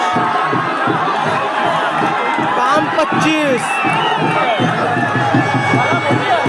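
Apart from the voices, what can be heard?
crowd cheering at village festival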